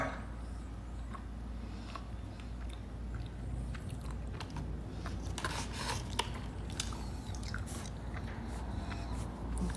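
Green beans chewed close to the mic, with soft crunching and squishing bites over a steady low background hum.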